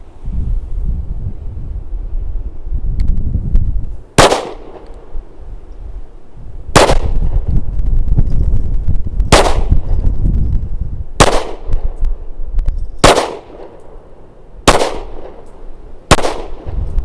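A Smith & Wesson Shield Plus pistol chambered in 30 Super Carry fires seven sharp, loud shots at uneven intervals, outdoors, with wind buffeting the microphone between them.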